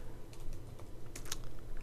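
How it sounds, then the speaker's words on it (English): Keys on a computer keyboard clack in a quick, uneven run of taps while code is entered, close and moderately quiet with no talking. "Now I know you can't see me typing it in"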